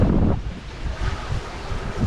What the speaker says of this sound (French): On a 15 nœuds de vent à l'arrière